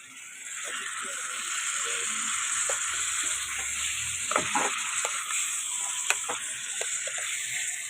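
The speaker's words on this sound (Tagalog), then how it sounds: "Haluin natin para yung sibuyas umibabaw" Onions sautéing in a small pan sizzle with a steady close hiss, broken by light scrapes and taps of a spoon stirring them, with no talk over them.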